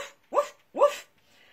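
A dog gives two short, sharp barks close by, evenly spaced, in a quiet setting.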